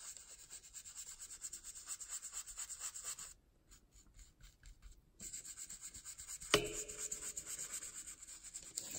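A brush lays a light coating on a craft project, a soft continuous rubbing that is faint and close. The rubbing pauses briefly midway, and a sharp tap comes near the end. No one speaks.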